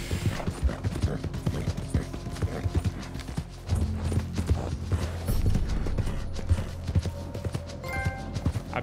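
A horse gallops in the video game Red Dead Redemption 2, with rapid, continuous hoof clip-clops up close and distant gunfire crackling behind them.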